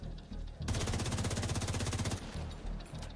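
Rapid automatic gunfire from a low-recoil rifle in The Division 2, a steady burst of about a second and a half of evenly spaced loud shots, with game ambience before and after.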